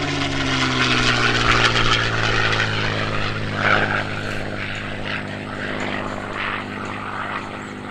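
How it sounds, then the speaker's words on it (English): A P-51 Mustang with a Merlin engine of about 1,500 horsepower flies past at an airshow. The engine drones loud and steady with a deep throbbing tone that slowly falls in pitch, alone without talk. "There's nothing sweeter than that Merlin engine."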